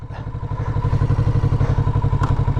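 A 2022 Kawasaki Z650RS motorcycle engine catches on its electric start and runs close and loud, settling into a steady, rapid, thumping idle with a mechanical clatter on top.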